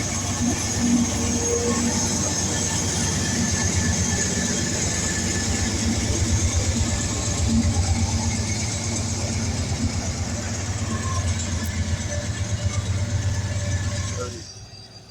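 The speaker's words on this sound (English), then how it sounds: "There is a train sitting down there." A CP freight train sits below, its engine idling as a steady low rumble with a constant hum, heard from a distance and holding evenly until it cuts off near the end.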